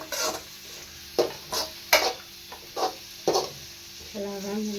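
Shredded cabbage sautéed in a pan for egg rice, a low sizzle broken by several separate scraping stirs, close up, with a brief clank of metal near the end.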